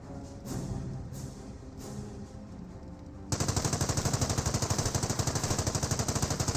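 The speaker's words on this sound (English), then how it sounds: "We're seeing some fire there from the 30 cal" A .30 cal machine gun in Company of Heroes fires a long, loud, rapid and evenly spaced burst that starts abruptly after a quieter stretch of distant battle noise.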